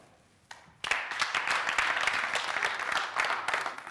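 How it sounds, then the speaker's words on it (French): Applause from a TV studio audience greeting a Burkinabè rap and slam performer: a few claps, then dense clapping swells into a steady, loud ovation that continues to the end. "Merci de l'applaudir."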